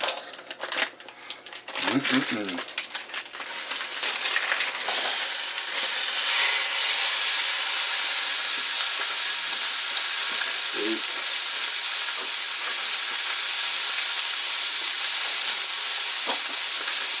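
Pork browning in a hot cast iron pan, a loud, steady close sizzle and hiss that fills the clip after a few seconds of handling clatter, with a person speaking briefly over it.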